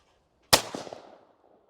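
A single sharp shotgun blast at a clay target on an English sporting compact layout, loud and close, followed by a short rolling echo that fades within a second.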